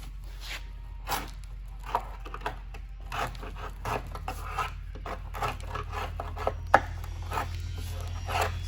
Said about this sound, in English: I want to clean up all this old epoxy. And what I used on the other one, which worked really well, is a good sharp wood chisel.